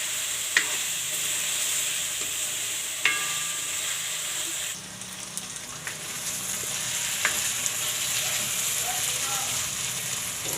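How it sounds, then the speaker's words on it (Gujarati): Boiled potatoes are mixed into methi bhaji frying in a pan. A steady sizzle runs under occasional spoon knocks and scrapes against the pan, and a voice is faintly present. "આ બટેટાને આપણે મિક્સ કરી લેવું।"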